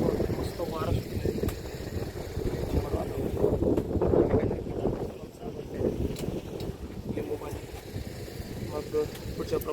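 Steady wind buffets the microphone beside a small river at a roadside stop, a continuous loud rumbling roar with faint voices underneath.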